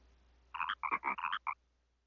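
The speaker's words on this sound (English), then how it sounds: "The frog seems to be saying something" A cartoon frog croaks in the Chibi-Robo! video game, giving a short run of about six or seven quick, bright, chirpy croaks in a bouncy rhythm, close and clear over faint background hum, with no one talking.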